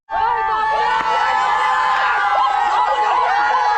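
A crowd of devotees in Valmiki Nagar Koliwada cheers at the boat arrival of the Ambavane palkhi during the Shimga festival, with loud, dense shouting and excited children's voices all at once.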